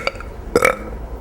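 A woman gives a brief burp on cue during a stand-up comedy show, one short, clipped belch after a faint sound, over quiet room noise.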